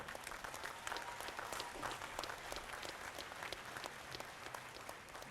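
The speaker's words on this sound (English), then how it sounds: "join me to applaud the late Professor Agbola, and indeed every teacher that this university has mentored" An audience at a university convocation ceremony applauds steadily with dense, even clapping that holds throughout at moderate loudness, with no voices over it.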